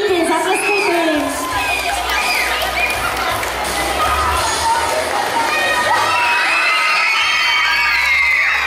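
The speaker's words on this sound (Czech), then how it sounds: "Zatleskejte jim." A crowd at an awards announcement in Česká Kamenice cheers, whoops and claps, with children's shouts rising in the dense, continuous noise.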